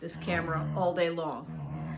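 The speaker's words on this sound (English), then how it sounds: "That sound is my dog" A dog whimpers and yips in the background under continuous close talking, its high whines rising and falling across the two seconds.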